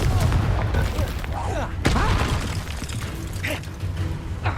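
Depulso and Confringo spells cast in the Hogwarts Legacy video game on PS5, loud booming blasts and impact crashes layered over dense combat noise, with voices in between.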